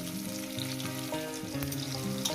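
Onions seasoned with salt fry in a pan for a spicy fish dish, a steady, close sizzling hiss with occasional stirring, playing under melodic background music.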